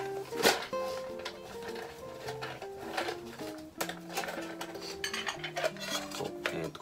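Metal camping cookware clinks and clatters as small pots and lids are handled, with scattered taps and scrapes over a quiet background, fairly close.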